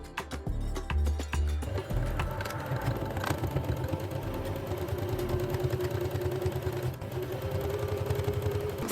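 A sewing machine stitches a neck binding onto a ruffled kimono jacket, a steady mechanical whirr running near and continuous after a brief start, with the motor drone holding level throughout.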